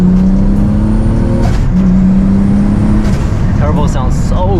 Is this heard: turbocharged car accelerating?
yes